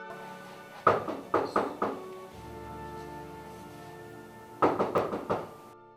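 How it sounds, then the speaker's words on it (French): Knocking on a door comes in two bursts of four firm raps each, separated by a pause filled with a low hum, close and fairly loud. "Il y a quelqu'un qui tape, d'accord?"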